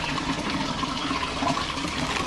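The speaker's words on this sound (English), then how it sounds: "So let's go ahead and release these bad boys." Water churns and splashes steadily as fish, including koi, are released from their container into a backyard pond built from a $100 pool, a loud continuous gush with no talk.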